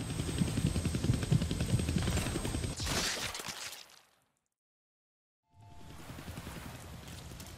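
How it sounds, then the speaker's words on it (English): A helicopter in the Deadpool video game thunders with a loud, steady rotor chop that cuts out abruptly into silence for over a second, then resumes as a dense roar. "I can't kill that chopper with my guns, but I can scare him."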